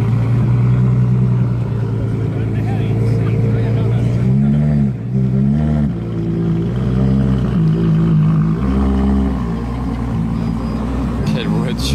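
Ferrari Monza SP2 V12 engine pulling away and revving on Paris streets, a loud, close, continuous growl with rising and falling pitch sweeps as it accelerates and shifts, with people talking over it.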